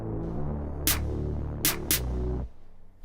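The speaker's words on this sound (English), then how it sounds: "actually underneath the snare, I've got a clap." Clap sample layered beneath a snare in a Logic Pro beat, three crisp bright hits, the last two close together, over a sustained low synth pad that drops out near the end.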